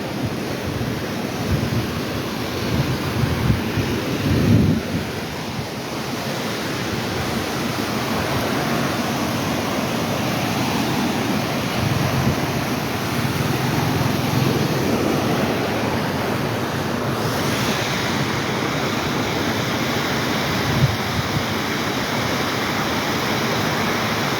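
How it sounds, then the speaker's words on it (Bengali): Water from the Kushiyara river rushes hard through a sluice gate into a haor wetland, a loud, steady, roaring broadband torrent that continues without break and with no voices. "দেখছেন পানি কি স্পিডে যাইতেছে, পানি কতটুকু স্পিডে যাইতেছে একটু দেখেন"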